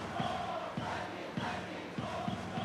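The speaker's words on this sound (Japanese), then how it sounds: "ひときわ大きな声援が聞こえます" A large baseball stadium crowd at a Lotte Marines versus SoftBank Hawks playoff game roars and cheers continuously, a dense wash of many voices with rhythmic swells, loud and close throughout.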